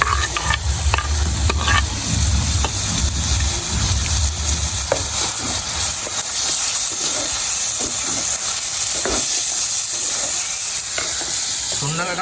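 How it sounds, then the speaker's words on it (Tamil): Onions and tomatoes sizzle and hiss in a hot pan while sautéing, with scraping stirs of a spoon early on, a steady close frying sound with no talk. "வெங்காயம் நல்ல வதங்கி கொண்டு வந்துட்டேனம்மா"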